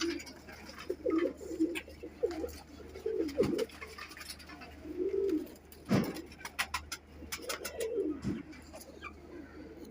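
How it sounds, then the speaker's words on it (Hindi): Pigeons coo in soft, repeated low phrases, close by, with occasional scratching and rustling between the calls. "बहुत अच्छे कबूतर हैं दोस्तों"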